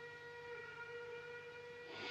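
A steam train whistle blows steadily as the train arrives in an Old West setting, a sustained harmonic tone over low rumble and hiss, growing louder near the end.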